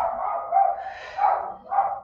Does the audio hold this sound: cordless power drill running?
no